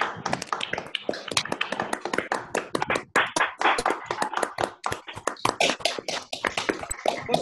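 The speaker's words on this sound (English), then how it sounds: "We could all unmute and clap" Participants in an online mathematics seminar unmute and clap to thank the speaker, a scattered, uneven patter of individual claps from separate microphones, sharp and dry, continuing throughout with irregular gaps.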